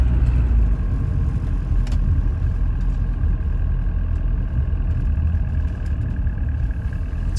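A 1979 Mercedes 240D W123 diesel car drives with a steady, loud low engine drone and road rumble, holding an even tone throughout with no talk.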